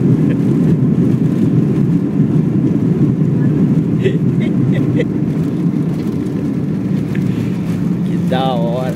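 Airliner landing at Brasília and braking on the runway: a loud, steady broadband roar of engines and rushing air fills the whole stretch, with people talking over it nearby.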